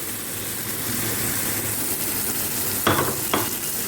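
Turmeric and red chili powder roasting in a pan over high heat for bhindi masala, a steady sizzling hiss throughout with two sharper bursts of frying near the end.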